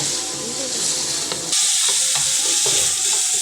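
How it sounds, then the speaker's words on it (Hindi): Mutton sizzles and fries steadily in a pot for a mutton pulao, a dense broadband hiss that grows louder midway, with a few soft scrapes from a spoon stirring the meat. "अब इसको अच्छी तरह भूनेंगे"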